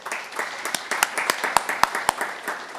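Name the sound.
applause for students at a school board meeting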